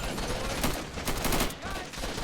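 Mortar artillery in Army Men: Plastic Wars, heard as a dense, continuous rattle of gunfire and booming blasts throughout the short stretch.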